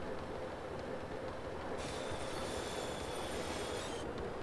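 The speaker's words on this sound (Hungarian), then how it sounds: "Nem, hát a vonat az előrefele megy, ez visszaugrál, visszafele ugrál" A train rolls along the tracks in the video game Multi Theft Auto, a steady loud rumbling drone with a high metallic wheel squeal rising midway and holding for a couple of seconds.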